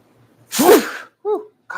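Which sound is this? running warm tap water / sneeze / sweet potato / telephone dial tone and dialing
sneeze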